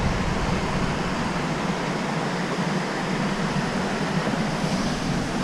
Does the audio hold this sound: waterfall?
yes